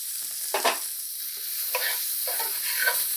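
Black pepper and oregano hit a sizzling pan while cooking nopales rancheros, giving a steady close hiss of frying broken by a few short scraping stirs.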